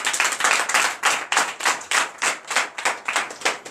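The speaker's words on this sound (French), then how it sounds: "La sœur Edith Hadé que je vous demande d'applaudir très fort." Congregation at a night deliverance service in a church clapping loudly in unison, a strong regular rhythmic beat of many hands, close and with no voices.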